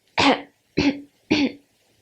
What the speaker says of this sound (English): do a little cough